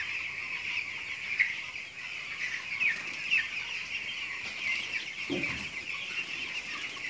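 Broiler chicks on a poultry farm keep up a steady, high-pitched chorus of peeping and clucking throughout, moderately close, with a brief low thump partway through and no talk.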